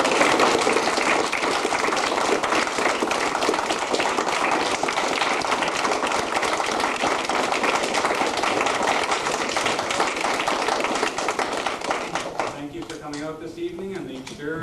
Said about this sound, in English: And I think they need another round of applause